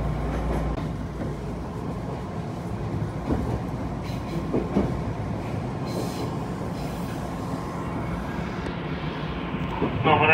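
An Odakyu 1000 series train in Hakone Tozan livery, running as a rapid express, arrives at Shinjuku terminal with a steady close rolling rumble and faint rail clatter throughout, swelling slightly near the end.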